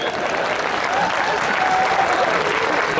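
Sustained audience applause at a Hindi comedy poetry gathering (kavi sammelan), a dense steady wash of clapping from a sizeable crowd, loud and continuous throughout with no talk over it.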